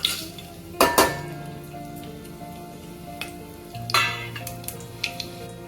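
Whole spices (bay leaf, star anise, marathi moggu, kasuri methi and ajwain) sizzle in five to six tablespoons of hot oil for tomato bath, with a soft hiss and a few close metallic clanks of a spoon against the pan.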